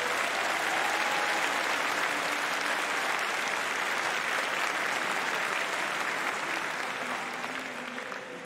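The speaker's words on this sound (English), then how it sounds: "Please join me in a round of applause for the graduates." A large audience at an engineering graduation ceremony claps steadily in sustained applause, dense and even, gradually tapering off near the end.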